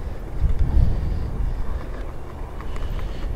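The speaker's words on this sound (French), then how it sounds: "Il y a du vent, beaucoup." Strong wind buffets the microphone on a grey outdoor walk up a hill, a rumbling, gusting roar that swells early and then stays steady.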